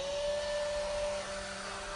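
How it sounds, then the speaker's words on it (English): A hair dryer runs with a steady, loud whooshing roar and a constant motor whine, close by and uninterrupted. "This is the hairdryer. Switch it on."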